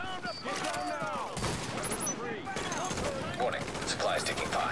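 Gunfire erupts in bursts during a firefight in the video game The Division as supplies come under attack. Overlapping shots and game effects play at moderate level, with a voice-like tonal sound in the mix.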